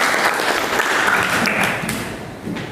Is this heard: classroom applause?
yes